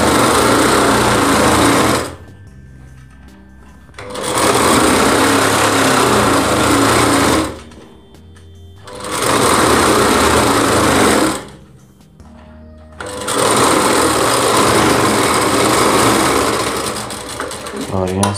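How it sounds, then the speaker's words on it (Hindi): An electric sewing machine runs in long loud bursts with short pauses between them while it stitches the side seam of a readymade lehenga, close and steady with a continuous whirring drone. "इस तरीके से आप आसानी से रेडीमेड लहंगे की सिलाई कर सकते हैं।"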